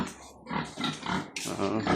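Pigs in a gestating pen for future breeding sows grunt and squeal in short, close, overlapping bursts.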